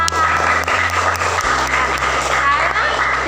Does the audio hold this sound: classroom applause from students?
yes